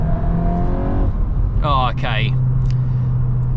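A Volkswagen Golf R Mk8.5 Black Edition revs, a loud engine rumble rising and falling briefly over a steady low drone, with people talking over it.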